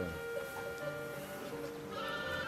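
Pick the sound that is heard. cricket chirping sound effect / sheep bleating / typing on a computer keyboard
sheep bleating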